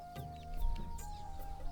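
Chickens cluck softly around a plain homestead on a river char island in Bangladesh, short scattered calls mid-distance over a steady low hum and faint farmyard background.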